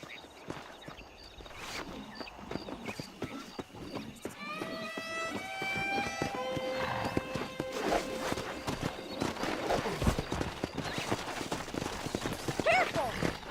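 Horses in the Red Dead Redemption video game, with clip-clop hoofbeats and a whinny or neigh amid busy game ambience, heard under speech.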